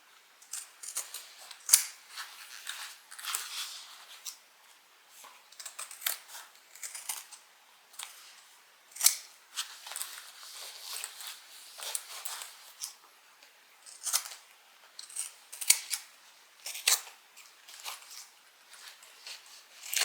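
Scissors snipping repeatedly through fabric to trim back the corners of a handbag, crisp close cuts in irregular bursts with short pauses between, quiet and without talking.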